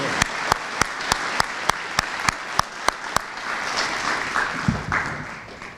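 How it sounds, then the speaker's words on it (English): An audience at a high school Veterans Day ceremony applauds veterans, with a run of evenly spaced sharp claps at first that swells into dense, sustained clapping from the crowd. "giving them a round of applause"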